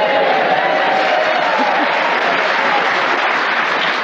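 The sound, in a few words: theatre audience applauding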